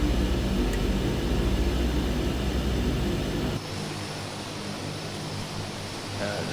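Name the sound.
Grand Caravan aircraft engine in flight simulator video game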